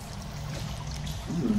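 Ambient cave water from the Dripping Caves plays in a tabletop game, a soft continuous trickle and stream-like wash with a faint gurgle near the end.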